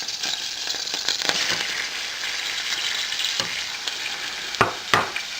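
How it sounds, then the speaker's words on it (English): Onions sizzle and crackle in bubbling butter in a saucepan, a close, dense frying hiss with a few sharp pops and utensil clinks, no voices. "When the butter begins to bubble like that, it's time to throw in the onions."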